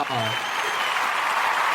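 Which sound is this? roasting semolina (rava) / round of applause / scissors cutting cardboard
round of applause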